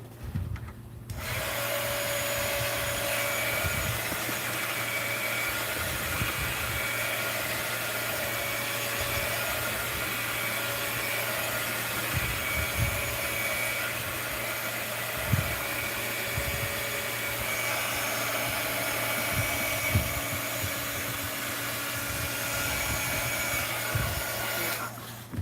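A handheld heat dryer runs over a mixed media art journal background, a loud continuous whirring hum held steady for a long stretch, with a few light taps and handling knocks.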